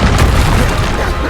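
A Bombarda spell goes off in Hogwarts Legacy, a loud deep boom that fills the start and rumbles away over about a second of battle.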